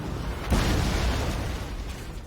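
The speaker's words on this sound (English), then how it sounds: "you can see when the Hell Cannon hits, it does some damage when it hits" A Hell Cannon shot lands in a Warhammer battle game: one sudden booming impact followed by a rolling, fading rumble, moderately faint and with no talking.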